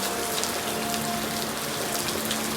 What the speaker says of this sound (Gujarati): એકદમ ફૂલ વરસાદ આવી રહ્યો છે